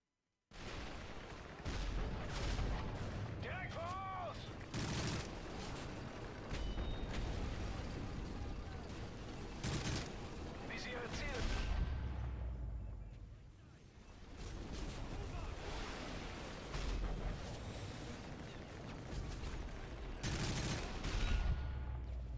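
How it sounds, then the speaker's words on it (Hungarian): Tank cannon fire in Call of Duty: Modern Warfare 3, heavy booming blasts repeating amid dense gunfire and explosions throughout a loud battle scene. "amikor lő bazeg a tank, az, hogy eszméletlen milyen hangja van"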